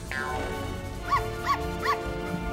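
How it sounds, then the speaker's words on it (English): In the Lego Batman video game a plant gives three short, evenly spaced yelping, dog-like cries over a constant game music bed. "why is that plant making dog noises?"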